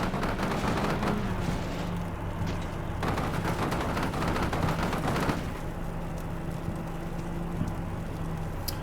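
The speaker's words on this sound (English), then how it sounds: "Definitely an enemy unit over there also firing at us" Enemy units fire in a modern warfare strategy game, Combat Mission Shock Force 2. Dense bursts of distant rifle and machine-gun fire crackle continuously over a steady vehicle engine drone.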